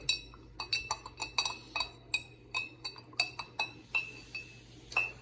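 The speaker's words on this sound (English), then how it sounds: "Then just give it a little stir." A spoon stirs a dissolving solution in a glass, giving a quick run of bright clinks against the glass, about a dozen taps in irregular rhythm, close and clear with no talking.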